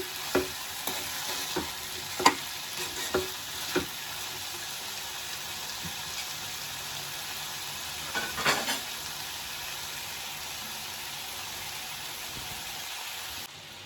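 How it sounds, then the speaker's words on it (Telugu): Potatoes fry in an open pan, giving a soft, steady sizzle with a few sharp scraping clicks from stirring early on and again briefly later. "అసలు మనం పైన మూత అనేది పెట్టకుండా ఇలా కలుపుకుంటూ వేయించుకుందాం"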